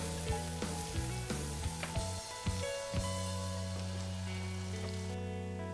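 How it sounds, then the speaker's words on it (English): Chopped onion frying in hot oil in a pan, a steady close sizzle with crackling spatters and a few clinks of stirring, as the first step of Nigerian fried rice. "I'm just going to fry this till it's fragrant."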